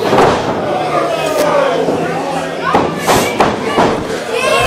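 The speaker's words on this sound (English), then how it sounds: "Redus Atlas with the alley-oop bomb." A wrestler hits an opponent with an alley-oop bomb in a six-man tag match: heavy thuds and body impacts on the ring canvas under loud crowd noise and commentary.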